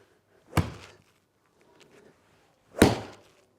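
Two crisp, solid strikes of a golf club on the ball, close up and about two seconds apart, each a sharp crack with a short decay and near-silence around them.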